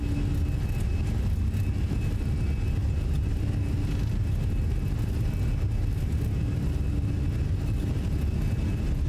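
Steady roar of a Fenix A320 airliner's engines during the takeoff roll in a flight simulator, a constant low rumble and whine running unbroken throughout.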